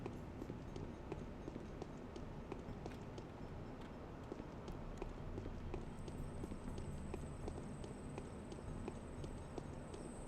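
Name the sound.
footsteps walking in video game Pathologic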